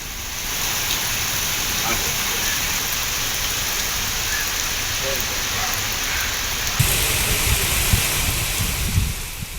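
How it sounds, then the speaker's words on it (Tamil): Heavy rain pours over the Tiruchendur area of Thoothukudi district as a loud, dense, unbroken hiss, with a few louder splashes and thuds toward the end. "தூத்துக்குடி மாவட்டம் திருச்செந்தூர் சுற்றுவட்டார பகுதிகளில் வெளுத்து வாங்கிய கனமழை"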